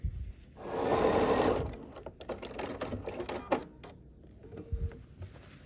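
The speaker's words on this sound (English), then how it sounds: "we just need to sew these 2 final seams together" A sewing machine joins the final seams of a scrappy sampler quilt block in one quick whirring run of about a second, followed by clicks, rustles and handling of fabric close by.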